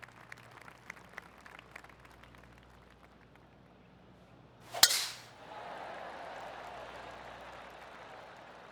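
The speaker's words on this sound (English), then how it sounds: "Time to step on your tee shot here at this long par 4." A golf tee shot on a long par 4 in PGA TOUR 2K23, heard as one sharp, loud club strike on the ball after quiet ambience, followed by rising crowd noise and applause.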